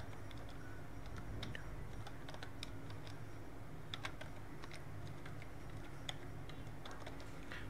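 Quiet typing on a computer keyboard, with irregular soft key clicks and occasional sharper taps in small bursts over a low background hum.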